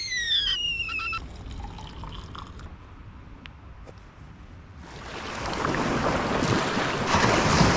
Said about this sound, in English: Oh, that's a wave.